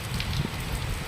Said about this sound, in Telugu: నెల్లూరు పట్టణంలో రాత్రి నుండి ఏకధాటిగా కురుస్తున్న వర్షం ఇది